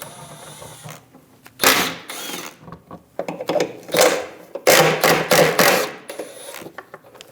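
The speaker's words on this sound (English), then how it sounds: "Using a 15mm socket, remove the 5 bolts for the front shield." A ratchet with a 15mm socket removes the bolts of the front heat shield on a 2001-2006 Chevrolet, giving close, uneven bursts of ratcheting clicks and metal scraping between quieter pauses.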